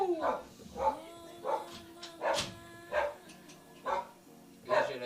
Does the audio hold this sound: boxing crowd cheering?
no